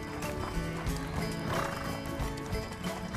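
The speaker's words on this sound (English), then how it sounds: "Our horses pick up the pace," Several horses trot together outdoors in a wild western setting, their hooves clip-clopping steadily and loudly throughout, with occasional neighs and whinnies mixed in.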